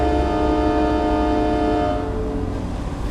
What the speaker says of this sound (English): we'll do the train horn off this thing